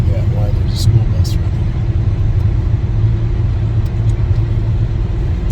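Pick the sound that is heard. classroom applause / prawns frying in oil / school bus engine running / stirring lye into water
school bus engine running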